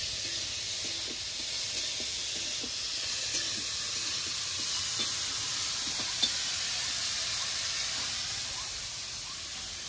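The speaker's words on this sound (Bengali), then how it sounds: "এবার চিংড়ি মাছগুলো ভালো করে নেড়ে চেড়ে ভেজে নেব।" Steady hissing sizzle of prawns frying in a hot pan, continuous and fairly quiet, with faint scraping and clinks of stirring.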